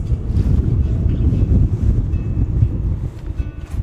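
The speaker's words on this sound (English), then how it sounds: "It's just been wind, wind, and more wind." Steady wind gusting across an open coastal shore, a broad continuous rumble of buffeting air on the microphone, loud and unbroken with no voices.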